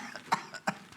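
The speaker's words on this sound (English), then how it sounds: "people get really good, really, really good at not coughing until someone yells cut" A person coughs nearby, two sharp separate bursts with softer breathy traces between them.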